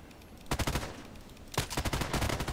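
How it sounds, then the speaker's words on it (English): Gunfire comes in two quick bursts of rapid shots during sniper video game play, sharp and fairly near, separated by a short pause. "Someone was shooting at me."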